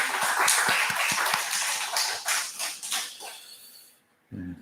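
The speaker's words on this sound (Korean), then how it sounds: "우리 하나님께 영광의 박수 다시 한번 돌리겠습니다" A church congregation applauds together during a Sunday worship service, a strong burst of rhythmic clapping that thins out and fades to near silence before a brief voice speaks.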